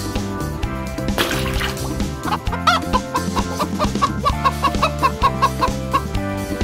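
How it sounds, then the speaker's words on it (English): A chicken clucks in a rhythmic series of sharp calls over a loud musical backing, clear and close. "Chicken."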